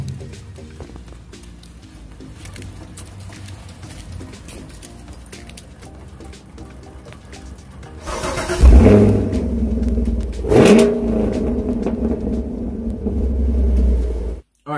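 A V8 car engine rumbles at a steady idle, then gives two loud, close revs a couple of seconds apart before settling back into a heavy, sustained drone.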